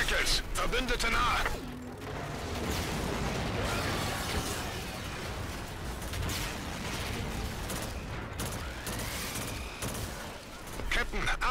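Gunfire from Jackal fighter craft during a Call of Duty: Infinite Warfare campaign battle, with dense mechanical rattling bursts and booms running throughout under a steady roar of combat noise.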